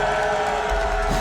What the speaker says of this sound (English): And who here is cheering for Snute?